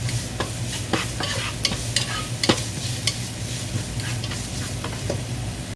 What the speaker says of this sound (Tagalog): And then, onion. So, igigisa po natin ito hanggang lumambot.